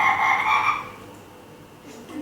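Several people imitate a frog's croak during a storytelling workshop, a bright raspy call up close lasting under a second, followed by quiet room sound.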